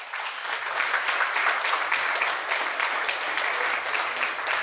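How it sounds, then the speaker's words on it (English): Loud, sustained applause fills a jubilee coffee morning as a crowd claps for the ladies of the Legion, a dense steady roar of hands with no voices over it. "give a big round of applause to the ladies of the Legion for their efforts this morning"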